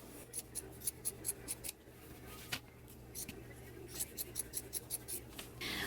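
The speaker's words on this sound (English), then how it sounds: "Going to do some trimming all the way around the facing." Scissors trim around the corners of a fabric facing while sewing a McCall's 7831 jumper. Quiet, close snips come in two rhythmic bursts separated by a brief pause, with no speech.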